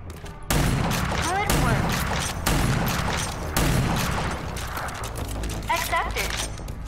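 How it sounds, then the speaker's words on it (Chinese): Repeated heavy blasts from a combat shotgun in the video game RAGE 2, four loud booming shots roughly a second apart, each followed by mechanical pump and reload clatter, with a voice talking over parts of it. "战斗霰弹枪。 近战时威力无穷，有几率击退敌人。 左键开火"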